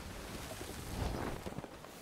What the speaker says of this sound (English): That's the sound of a full billow.